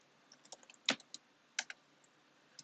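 Keys clack on a computer keyboard while code is typed, in sparse irregular taps with one sharper, louder keystroke and short quiet gaps, close and fairly faint.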